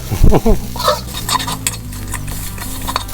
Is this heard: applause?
no